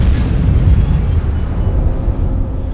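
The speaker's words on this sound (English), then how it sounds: "there was a horrific explosion" A deep, rumbling underwater explosion effect for a submarine striking a sea mine, a loud sustained low boom with heavy bass that rolls on for a few seconds without fading much.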